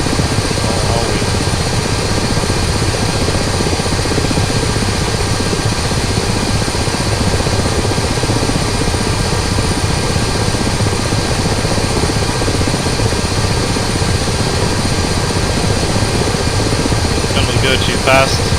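A Ka-50 attack helicopter flying in a video game, its steady rotor thrum and engine drone loud and continuous throughout, with a voice talking over it.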